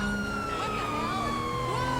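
A police car siren in the GTA 5 video game wails steadily with rising and falling tones, loud and continuous over a low rumble of traffic.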